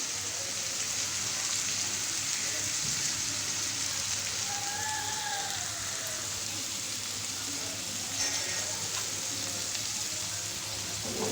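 Bitter gourd (karela) slices fry in oil in a pan, giving a steady, even sizzle like light rain that holds close and constant, with faint background sounds and no talking.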